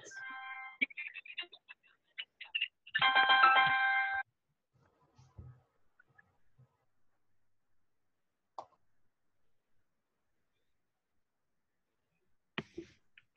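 A phone rings with an incoming call during a group conference call, a short burst of bright, tonal ringing lasting about a second, preceded by a few faint clicks and scattered quiet sounds, then near silence.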